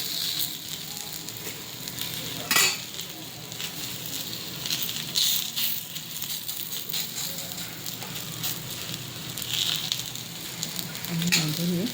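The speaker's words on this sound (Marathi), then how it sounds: "असा तळायचा." Bajra flour thalipeeth flatbread frying in oil in a pan, a steady soft sizzle running throughout at moderate level with a few brief clatters and a faint voice in the background.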